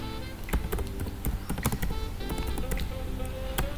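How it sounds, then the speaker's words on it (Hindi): Rapid clicky keyboard typing from a hacker-style sound-effect extension in a code editor, a steady run of sharp keystrokes with a few louder accented taps, close and alone. "अभी हम साउंड इफेक्ट डालने वाले हैं अपने टाइपिंग में।"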